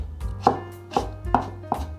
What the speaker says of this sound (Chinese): 排整齐，切丝。